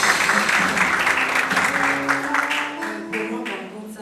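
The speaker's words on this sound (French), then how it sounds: "Acclame Jésus Christ." A church congregation applauds loudly and close by during a healing service. The clapping is dense and continuous and fades a little toward the end, with voices mixed into it.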